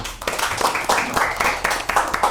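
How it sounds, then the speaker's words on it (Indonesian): Audience applause at a Saraba Channel podcast held with BPD HIPMI Sulteng, a brief run of close, evenly spaced claps from a small group, no voices over it. "Tepuk tangan"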